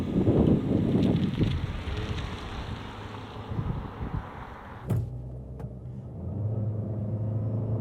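Haval H6 hybrid launching hard from a launch control start, a loud, steady engine and road roar with heavy wind rush that eases briefly near the end before building again.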